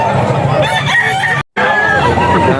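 Roosters crowing and clucking among caged chickens at a rainy Bocaue pet market, loud and close, with a brief dropout of silence midway and a busy market bustle underneath.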